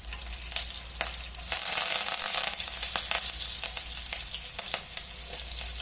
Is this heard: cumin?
yes